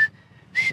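A voice imitates a traffic helper's rhythmic whistle in Mexico City traffic: two short, shrill whistle bursts close by, separated by a faint held tone.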